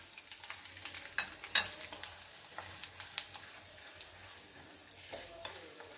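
Cumin, mustard seeds, chana dal, urad dal and cut dried red chillies sizzle in hot oil while being stirred for an old-style tamarind pickle, a close, continuous crackle with sharper pops scattered throughout.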